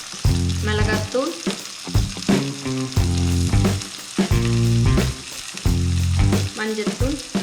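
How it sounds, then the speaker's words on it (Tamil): Drumstick masala cooking in a pan with coriander, chilli and turmeric powders, a steady sizzle with repeated scraping strokes of a spoon stirring the mixture, close and fairly loud, no talking. "இதெல்லாம் போட்டு நல்லா வதக்கிக்கணும்."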